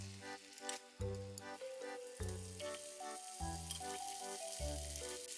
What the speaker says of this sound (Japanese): 卵はひっくり返して両面焼きます。